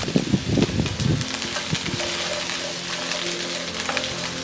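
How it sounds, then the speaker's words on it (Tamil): Square-cut capsicum and onion hitting a hot pan, a loud burst of sizzling at first that settles into a steady, even frying hiss. "இப்போ இது 2த்தையும் போட்டு இதில் ஃப்ரை பண்ணிக்கலாம்"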